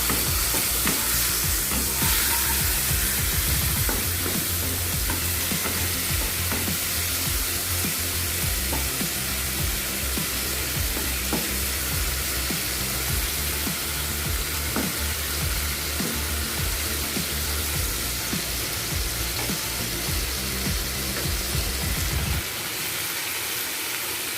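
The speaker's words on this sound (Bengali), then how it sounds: "এবার চিংড়ি মাছটা একটু ভাজা ভাজা করে নেব।" Steady, loud sizzling of prawns frying in a pan, a dense hiss with occasional stirring clinks, continuous for the whole stretch with no voices.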